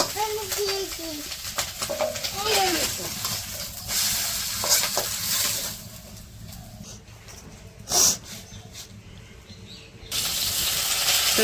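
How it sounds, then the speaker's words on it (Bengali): Onions and chillies fry in oil in a kadai in a village kitchen, with sizzling and the scrape and clatter of stirring that fade toward a quieter stretch and a sharp knock near the end. "কড়াইয়ে তেল দিয়ে দিচ্ছে পেঁয়াজ মরিচ দিয়ে দিল"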